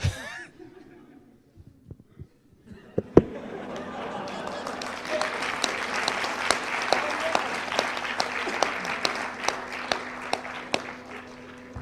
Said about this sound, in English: Again, big applause for the volunteers.